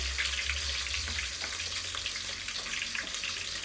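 Garlic frying in hot oil gives a steady, bright sizzle with crackling pops, heard close and fairly loud. A low hum sits beneath it, and there is no talk.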